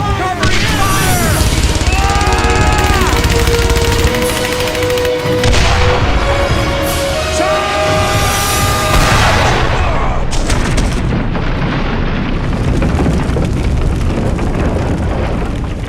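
Gunfire and explosions in the World War II shooter Brothers in Arms, sustained loud bursts and booms filling the scene alongside music and battle noise throughout.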